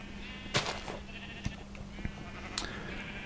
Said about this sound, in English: are cutting so many sheeps, trimming their furs, getting some nice wool